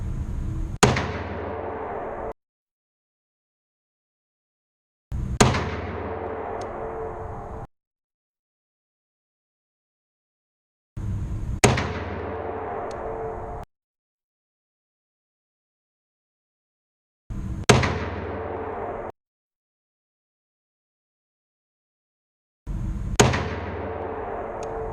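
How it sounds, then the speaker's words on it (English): Smith & Wesson 629 Competitor Performance Center revolver fired at a shooting range: five loud, sharp single shots spaced a few seconds apart, each with a brief ringing decay and silence between. "let's head down to the shooting range for some fireworks"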